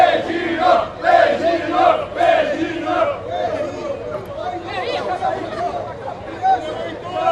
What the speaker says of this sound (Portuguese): A torcida continua cantando aqui.